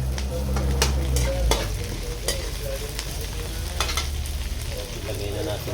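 Partly frozen liver frying with garlic and onion in a pan for pancit chami, a loud continuous close sizzle with scattered crackles and utensil scrapes from stirring.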